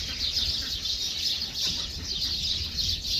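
Chickens cluck and chirp softly on a poultry farm in Saudi Arabia, a steady, noisy farmyard backdrop with a constant high hiss running throughout.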